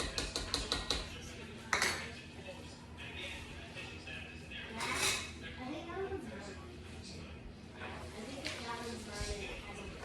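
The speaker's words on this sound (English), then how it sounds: "I'm gonna mix the flour in here." A utensil scrapes and clinks against a pan while flour is stirred into melted butter for a roux, with steady kitchen clatter under ongoing talk.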